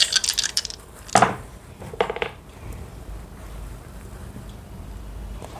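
Astro dice tumble and clatter across a surface during an astrology reading, a few sharp rattling clicks in quick succession near the start, then a quiet room.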